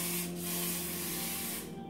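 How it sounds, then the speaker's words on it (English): Hair spray hissing in a steady continuous burst over Toppik hair fibres, close and fairly loud, lasting nearly two seconds and tailing off at the end, with no talking. "So you can use any spray to spray it a little bit"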